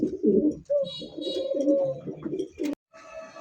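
Pigeons coo close by, a low, throaty rolling call repeated in several bursts, steady and moderately loud, with a short gap near the end followed by a brief higher tone.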